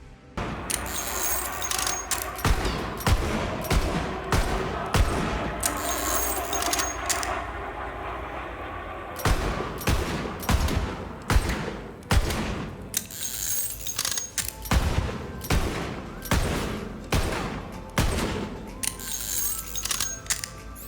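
Rapid gunfire from a weapon in Borderlands 3, sharp cracking bursts in quick rhythmic volleys with brief gaps, loud and clear over a low game ambience.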